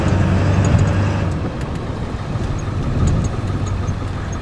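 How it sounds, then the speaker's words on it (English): A Ford 7.3 diesel truck engine with a Hydra tune rumbles loudly up close, its deep revving swell easing back toward a steady idle before rising again. "You can already tell by the quickiness of the throttle."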